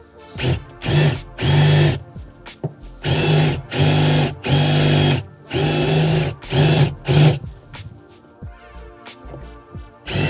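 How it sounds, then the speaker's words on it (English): A power drill drilling out rivets whines in repeated loud bursts, starting and stopping about a dozen times, with brief quiet gaps between each burst. "So we just need to drill those out."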